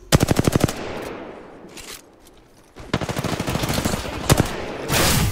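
Close, loud automatic gunfire in a video game arrives in short rapid bursts separated by quieter stretches, and a final burst blends into a sustained noisy roar.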